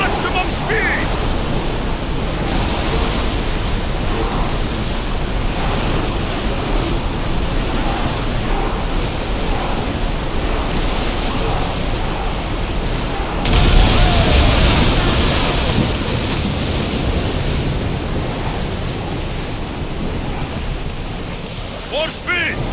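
A ship sails at maximum speed through open ocean waves in Assassin's Creed Odyssey, with continuous loud rushing surf and wind noise and a surge of heavier splashing partway through.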